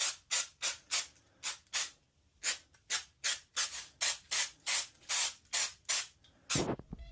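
An aerosol spray can puffing paint onto a Stitch figure, about fifteen short, sharp hissing bursts in a quick uneven rhythm, close and fairly quiet, with a brief rustle at the end.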